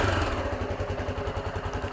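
A Honda CBX 250 Twister motorcycle engine idles cold just after starting, giving a steady, close, loud, rhythmic thumping with a mechanical clatter throughout.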